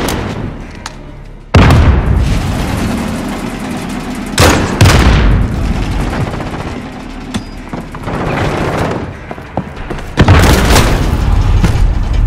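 Loud grenade blasts in Call of Duty: Modern Warfare: several heavy booming explosions with sharp onsets and long rumbling tails, set among continuous gunfire and battlefield noise.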